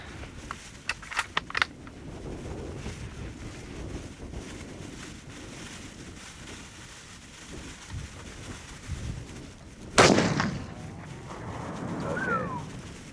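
A Remington 700 rifle chambered in .30-06 and loaded with British ammunition fires a single loud, sharp shot outdoors, with a brief echo trailing off over faint wind and distant birds.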